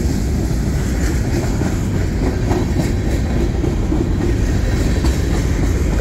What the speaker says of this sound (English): as this freight train goes by